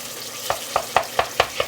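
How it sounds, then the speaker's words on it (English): Tomato paste fries in a pan while a spoon stirs it, giving six evenly spaced scraping strokes over a low steady sizzle, close up and with no voices. "And I'm going to just fry it around."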